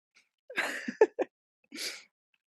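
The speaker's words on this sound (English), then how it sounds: "hold on, sneeze" A single sneeze with a sharp inhale build-up and explosive burst, followed by a breathy exhale a moment later; no speech.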